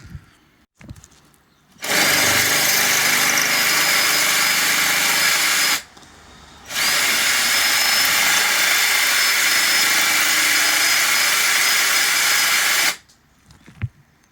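A power drill bores out the broken remains of a bolt during a timing belt change on a 1997 Vauxhall Astra F. It gives two long, loud, steady runs at close range, split by a short pause, with no talking.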